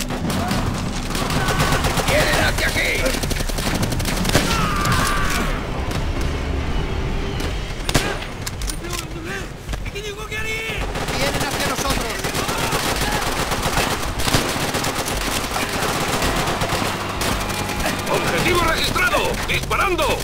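Heavy gunfire from the Call of Duty: World at War video game, with dense machine-gun bursts, rifle shots and explosions in a constant loud battle din, with voices shouting over it.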